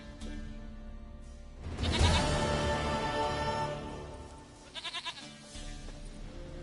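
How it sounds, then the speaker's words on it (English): Goat bleating in a PS4 video game, a loud wavering bleat in the middle followed by a shorter, pulsing bleat, over a quiet game soundtrack. "Goat of mine, dearest,"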